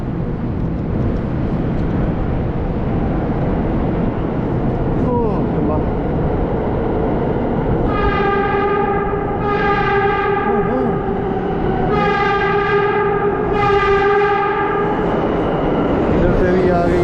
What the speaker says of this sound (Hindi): अब मेरी ट्रेन भी आ रही है,